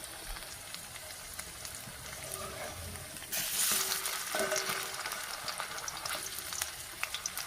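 Cauliflower pakoras fry in oil over a low flame, a continuous bubbling sizzle that swells louder for a few seconds midway as they are gently stirred, with faint utensil touches and no voices.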